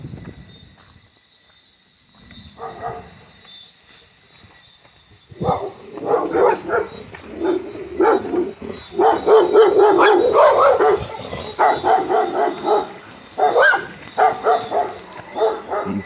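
Several dogs bark outdoors at night after a storm, quiet at first, then breaking into repeated loud, overlapping barks and yips that continue in bursts through the rest of the stretch.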